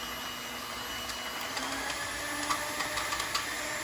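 An electric mixer whirs steadily at close range, beating egg whites for a lemon cake until foamy, a constant motor drone with small rattling bumps toward the end.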